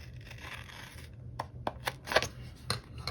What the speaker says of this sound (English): I'm gonna grab one more sticker that I'm gonna cut in half